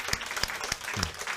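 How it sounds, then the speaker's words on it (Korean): A handful of distinct claps at a slow, regular pace in a church, fairly close and moderately loud, with no voices. "우리 박수 한번 쳐주세요."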